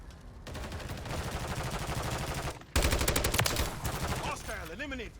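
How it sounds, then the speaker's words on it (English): Rapid automatic gunfire in MW3 multiplayer, a Lachmann 556 rifle among the weapons, bursts loudly in two long, dense strings of shots separated by a brief gap, ending with short electronic game sounds. "There's a guy shooting right there"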